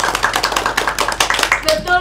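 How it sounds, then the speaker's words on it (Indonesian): A classroom group in a microteaching lesson claps hands briskly together, a quick uneven patter of close claps lasting two seconds, with voices talking over it. "Tepuk tangan buat Anak Isra."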